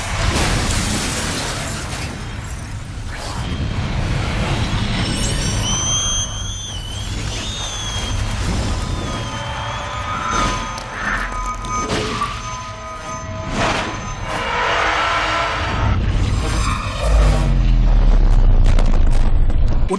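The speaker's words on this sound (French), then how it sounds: "Regardons même une autre explosion dans Time and Tide, pour les gourmands." Another explosion in the Hong Kong action film Time and Tide unfolds as repeated bursts, shattering debris and rumbling booms mixed with tonal movie sound effects, building to a heavy blast at the end.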